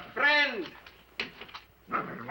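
At night in a 1962 film, a dog gives a yelping bark and then soft whimpers nearby, with faint movement sounds between.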